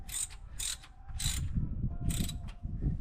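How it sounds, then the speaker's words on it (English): Bolts being gently snugged up on an EFI base plate during a fuel injection install, heard as a few short, bright ratcheting bursts with a low mechanical rumble underneath. "I gently snug each one up."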